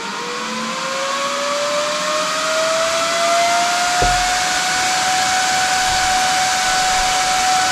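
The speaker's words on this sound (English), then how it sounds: "So I want to show you what that looks like and sounds like." A DIY cooling fan running on a 19-volt old laptop power supply for an off-grid solar-powered shed spins up with a rising whine that settles into a steady, loud whirring hum with a broad rush of moving air.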